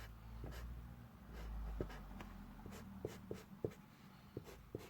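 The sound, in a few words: felt-tip pen shading on paper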